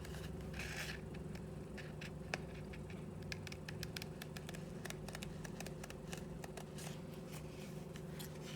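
Fiskars PowerCut shears slowly cut leather for earrings by hand, a series of soft snips and small ticking clicks over a steady low hum, close and fairly quiet with no talking.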